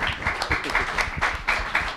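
Audience applause at a public panel discussion in New York, a steady wash of many hands clapping at moderate level for about two seconds with no talk over it.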